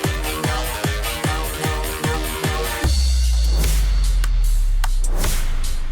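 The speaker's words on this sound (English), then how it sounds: "For a better transition from part 1, we also use a crash and a sub-boom." An EDM track built in FL Studio: a loud repeating kick-and-bass pattern drives to a bright crash cymbal hit, followed by a deep sustained sub-boom that rumbles and slowly fades under a wash of cymbal noise.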